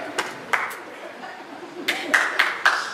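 A few scattered hand claps from a church congregation during a sermon, several sharp separate smacks spaced irregularly, mid-distance, with faint room murmur between them.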